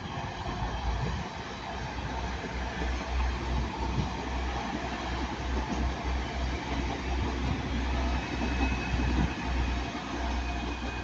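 A Class 185 diesel passenger train on the Transpennine Express rolls past at Ardwick with a steady rumbling roar and rhythmic wheel clatter, close and loud throughout without talk.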